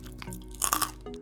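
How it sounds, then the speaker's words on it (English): Crisp, loud crunching bites into air-fried roast pork belly crackling, several sharp crackly bursts in quick succession, up close and with no voices. "I took a bite earlier and recorded the sound, which I know is a bit geeky, but listen to that crunch."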